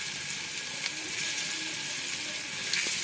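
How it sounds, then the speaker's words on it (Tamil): Cubes of spiced paneer fry in hot oil, giving a dense, steady, close sizzle with occasional soft crackles and no talking. "இப்போ நம்ம மிக்ஸ் பண்ணி வச்சுருக்க பன்னீரை ஃப்ரை பண்ணி எடுத்துக்கலாம்."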